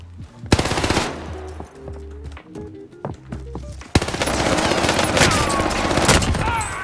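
Rapid bursts of automatic machine gun fire in Warzone crackle loudly, first in short volleys, then a sustained, dense barrage with echoing blasts.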